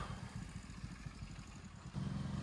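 An off-road motorcycle engine runs outdoors on a riverside ride near Kushalnagar, a close, throbbing putter of rapid pulses that grows louder toward the end.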